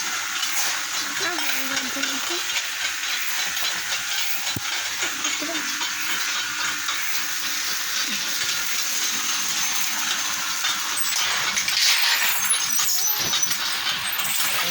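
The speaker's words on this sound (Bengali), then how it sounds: "মেশিনে মুড়ি ভাজা হচ্ছে এখন দেখতে পাচ্ছেন।" Puffed rice frying in a machine, a dense continuous hiss and rustling sizzle, steady and fairly loud throughout with faint voices underneath.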